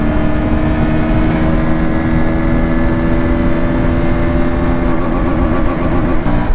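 A KTM Duke 160 motorcycle engine running, a steady loud rumble with a continuous low drone and no speech over it.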